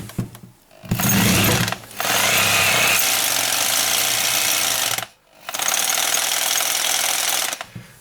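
A Bosch GBH 220 rotary hammer drill runs loud and close in sustained bursts, starting up, hammering steadily, pausing briefly and then running again for several seconds.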